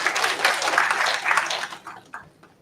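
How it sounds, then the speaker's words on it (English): An audience claps at a research dialogue session to welcome a moderator. The dense, fairly loud applause holds for about two seconds, then thins to a few scattered claps and fades. "Let's welcome him with a round of applause."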